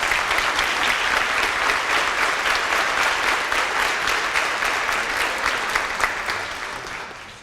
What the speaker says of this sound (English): So can we take a second to give the Impact staff a huge round of applause